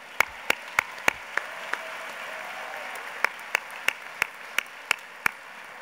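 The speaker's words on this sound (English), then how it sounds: "Let's give him one more round of applause." Scattered applause for Congressman John Lewis at a commencement ceremony, a faint crowd background punctuated by distinct, spaced, close individual claps.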